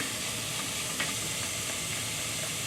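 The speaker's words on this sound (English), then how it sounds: "Stir evenly, coating all this beautiful vegetable until they lightly coated." Chinese gai lan is stir-fried in a pan, making a steady, soft sizzling hiss with a faint clink of stirring, close but low in level and without speech.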